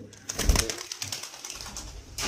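A male running pigeon gives a brief, low coo up close, followed by quieter rustling and soft background sounds.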